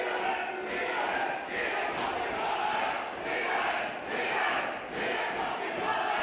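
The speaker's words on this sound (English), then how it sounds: "Crowd very partisan, getting behind both fighters there, great to see." Boxing fight night crowd roaring and cheering loudly and continuously in a full hall, with swelling surges of noise for both fighters and faint commentary underneath.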